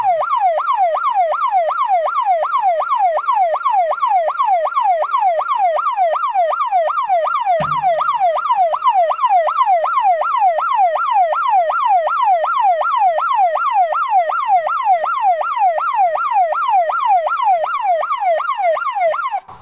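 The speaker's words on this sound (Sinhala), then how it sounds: "සයිරන් එක ඔන් වුණා." A Nemtek Druid 114 electric fence energizer's alarm siren wails in a loud, rapid, regular up-and-down warble that runs continuously and close by, with one brief low thump partway through.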